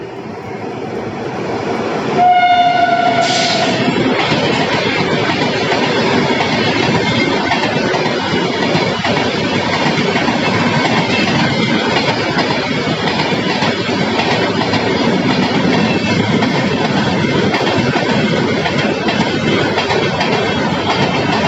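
A train at Jammikunta railway station rolls past loudly and close, a dense continuous roar of wheels with rhythmic clickety-clack and a brief high squeal near the start.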